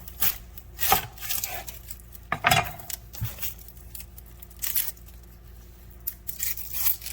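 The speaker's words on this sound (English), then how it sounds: "I'm going to start by going ahead and then cut my onion up for my rice." An onion is cut up for rice, with a handful of sharp, scattered knife chops and crunches against a quiet kitchen background, close by and alone without talk.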